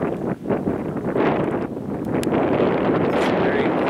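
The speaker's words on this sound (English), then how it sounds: "The wind is crazy strong." Strong gusts buffet the microphone on a desert hiking trail in Tucson's Sweetwater Preserve, a loud continuous rumbling roar that rises and dips with the wind.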